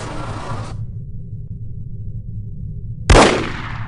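Gunfire in the video game No One Lives Forever: a loud blast of shooting opens, cuts to a low ambient hum, then a single sharp, booming shot bursts out near the end and decays.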